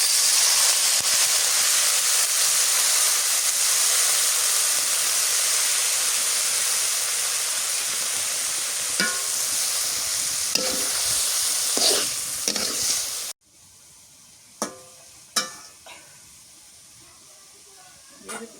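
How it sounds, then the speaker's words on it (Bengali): Green leaves dropped into a pan of fried dried fish (shutki) set off a loud, steady sizzle and hiss, with stirring clatters near the end before the frying noise suddenly drops away, leaving a few scrapes. "শুকটি ভাজা হয়ে গেছে, এখন এই যে পাতাগুলো দিয়ে দিই।"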